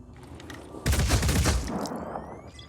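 Gunfire in Phoenix Point, a burst of rapid shots that erupts suddenly after a quieter lead-in and rattles loudly for about a second before tapering into a fading tail with a rising electronic whine.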